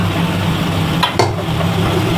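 Beef going into a hot pot for a coconut beef curry: steady sizzling hiss with a brief wet splat and rustle near the middle, close and fairly loud.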